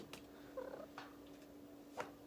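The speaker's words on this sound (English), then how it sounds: "sorry about my cat" Faint indoor cat giving a few short meows over a low steady purr-like hum, quiet and close.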